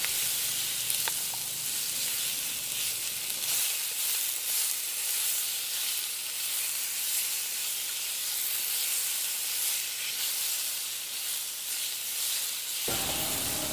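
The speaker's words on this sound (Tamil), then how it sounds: "இந்த அவிச்சு வெட்டி வச்சிருக்கிற சோயா மீட்டை இதில் போட்டுருவோம்" Boiled soya chunks fry with sautéed onions in a hot pan, giving a steady, even sizzle and hiss that carries on close by for the whole stretch, with no voices.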